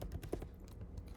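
Fingers type on a computer keyboard in a quick run of soft, closely spaced key clicks, faint and close, with no voices over them.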